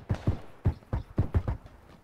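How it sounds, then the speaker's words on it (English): Enemy player's footsteps in PUBG, a battle royale shooter, as a series of about seven uneven thudding steps over two seconds, fairly close and heard alone without talk. "I hear his footsteps."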